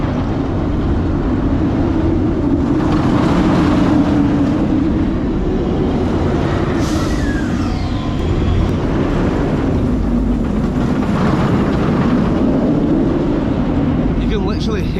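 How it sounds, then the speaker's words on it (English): Nemesis roller coaster at Alton Towers heard from off the ride, a continuous loud rumbling rattle of the train on its track, with a low roar that swells and eases throughout. "You can literally hear the rattle from off ride. That's how rattly it is today."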